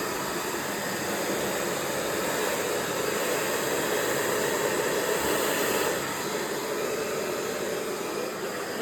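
A hair dryer blows continuously during a blow-dry of medium to thick hair, a steady close whooshing roar with only slight shifts in tone throughout.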